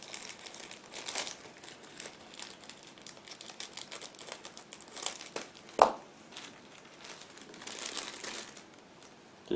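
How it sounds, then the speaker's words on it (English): Small plastic bag holding chrome model-kit parts for an Aoshima 1/24 Subaru BRZ being opened by hand, giving quiet, close crinkling and rustling with a sharper tearing snap midway, no voices. "Next we have small plastic bag with chrome parts. Again, give me a sec to open it."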